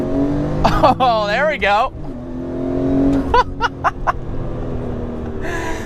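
A supercharged BMW E46 M3 engine revs hard from inside the car, loud and rising in several sweeping pulls with short sharp blips later on, while a voice speaks briefly over it.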